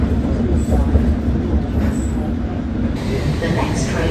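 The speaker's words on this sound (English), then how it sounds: "The Circle Line train via Victoria and Embankment." A London Underground Circle Line train rumbles steadily on its rails, loud and close from inside a carriage, with a faint wheel squeal and a background voice murmuring under the running noise.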